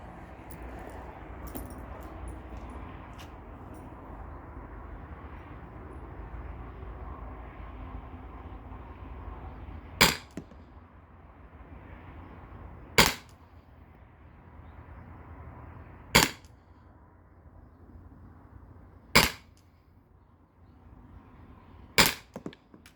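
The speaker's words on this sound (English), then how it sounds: "I'm just gonna go back and fire off 5 rounds with the Salt Supply Kinetic rounds" Five sharp, loud shots from an HPA air launcher firing Salt Supply Kinetic less-lethal rounds, spaced roughly three seconds apart over a steady background rumble.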